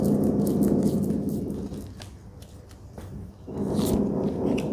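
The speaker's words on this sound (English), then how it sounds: "Moving on to the next shuffle." Tarot cards being shuffled by hand, a steady papery riffling and sliding that fades mid-way and returns louder near the end, close and alone without talk.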